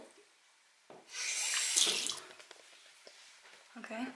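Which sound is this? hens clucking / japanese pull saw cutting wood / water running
water running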